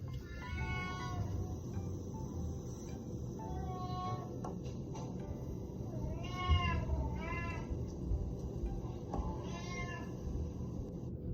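A young kitten meows several times, thin rising-and-falling cries spaced a second or two apart, clearly heard over a steady low background hum.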